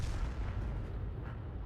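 Booming artillery fire from a 105 leFH18B2 gun in World of Tanks, a dense, rumbling blast that fills the short moment at steady loudness with no voices.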